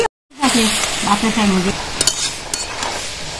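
Green chili paste hits a pan with spinach and sizzles steadily as it is fried and stirred, with a few metallic clinks of a spatula against the pan and a voice briefly heard at the start.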